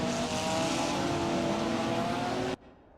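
Race cars on a formation lap at the Red Bull Ring pass behind a safety car, a loud sustained engine roar with steady harmonic drone that cuts off abruptly near the end.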